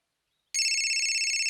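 A telephone ringtone starts abruptly after a short silence and rings on loudly and steadily with a bright, tonal pattern, alone with no voices.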